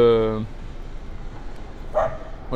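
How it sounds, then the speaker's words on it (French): Dogs in a park give a short, tonal bark and yelp at the start, then another brief yip follows. The calls sound moderately close over a low background hum. "C'est le parc aujourd'hui avec tout le monde avec ses chiens incapables de s'entendre."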